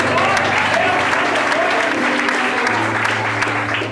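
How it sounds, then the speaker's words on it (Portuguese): A church congregation applauds during a sermon, dense sustained clapping filling the room with a faint voice underneath, the clapping easing slightly toward the end. "Quantos que aplaudem glória a Deus aí?"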